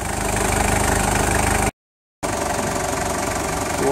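A Toyota Landcruiser Prado with an A343F automatic transmission idles steadily after a transmission filter service and fluid change, a low, even engine hum heard up close, broken by one brief half-second gap of silence.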